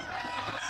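A chicken clucks and calls briefly at close range at a pet market in Bocaue, over steady background noise.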